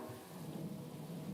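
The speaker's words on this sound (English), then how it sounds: "Oh, that rain is coming down hard." Heavy rain falling on the track in Gran Turismo 7, a dense continuous hiss with a low rumbling undertone, steady and fairly quiet throughout.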